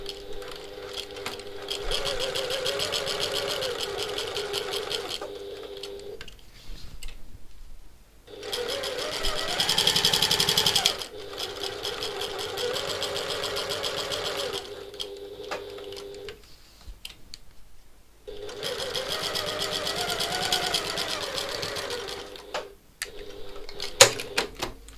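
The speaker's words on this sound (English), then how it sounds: "So I'm going to sew now at 1/4 of an inch" Domestic sewing machine stitching a quarter-inch seam on a satchel, three bursts of rapid, even motor-driven stitching separated by short pauses, close up and moderately loud, with no talking.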